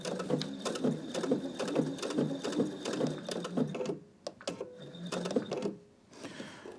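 A sewing machine stitches a denim jean seam in fast, even mechanical clatter that runs steadily, stops briefly and then resumes in shorter runs, close and clear with no speech.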